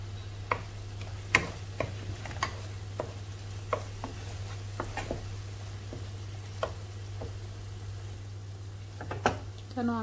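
Tomatoes added to frying spices in a home kitchen, with light sizzling and intermittent spoon scrapes and taps against the pan over a steady low hum, fairly quiet and close.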